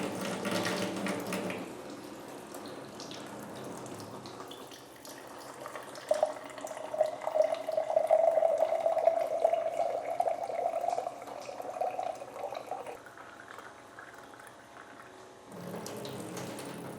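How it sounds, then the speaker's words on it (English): Water runs from a kitchen faucet through a PUR PLUS FM2500V faucet filter, a steady stream with a rising tonal whine in the middle as the flow changes, and clattery handling sounds at the start and end. "Now I'll turn on the filter."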